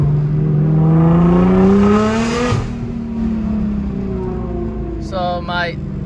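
A Nissan GT-R R35 engine revs as the gas pedal is pressed hard, its pitch climbing steadily for a couple of seconds, then settling into a steady drone with a brief chirp near the end.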